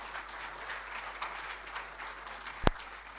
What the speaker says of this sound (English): A round of applause is well deserving